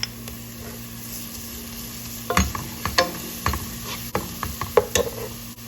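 Garlic and whole garam masala spices sizzling in a pan, a low steady fry punctuated by a quick run of sharp spoon clacks and stirring scrapes, close and with no talk.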